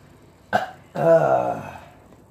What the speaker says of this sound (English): Trying to get rid of these hiccups.